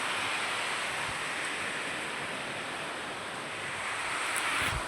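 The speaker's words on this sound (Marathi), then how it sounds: "बघा पाऊस सारखा आहे चालू" Continuous monsoon rain in a village, an unbroken, even hiss of downpour close by, steady from start to finish with no talking.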